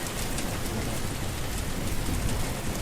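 Steady, dense rain falls close by, a continuous even wash of drops that stays at the same loudness for about three seconds, with no voices.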